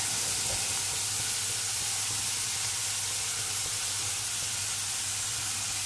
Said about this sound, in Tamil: இப்போ ஆனியன் நல்லா ஃப்ரை ஆகட்டும்